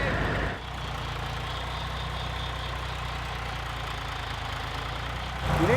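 A tractor engine runs steadily while compost is loaded, a low droning idle with a constant hum that drops briefly near the start and rises again at the end.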